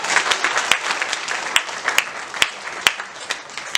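A church congregation at a combined service applauds together, a steady wash of many hands clapping with some louder individual claps standing out throughout.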